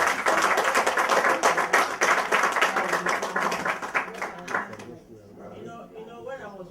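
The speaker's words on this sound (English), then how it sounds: "Please, can we clap again for her?" Audience clapping at an event on empowering rural women and girls, a burst of close rhythmic applause that dies away after about five seconds as a voice begins speaking.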